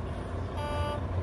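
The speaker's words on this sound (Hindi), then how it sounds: "तो ये जो बीप की आवाज़ है" Low air pressure warning beep inside a Volvo truck cab, a steady thin electronic tone over the low rumble of the idling engine.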